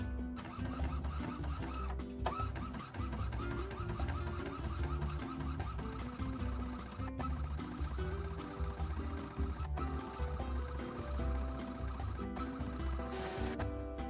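A printer feeds regular printer paper through with a busy, rhythmic mechanical whirring and clicking that runs continuously at close range, with brief pauses in the pattern.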